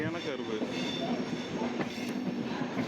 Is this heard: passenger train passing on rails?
yes